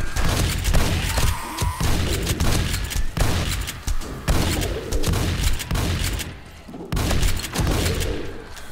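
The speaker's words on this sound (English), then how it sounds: "So these guys actually shoot a fireball." Enemies in the video game 7 Days to Die, played with the Darkness Falls mod, hurl fireballs. Loud, dense bursts of booming blasts and crackling impacts repeat throughout, with brief dips between volleys.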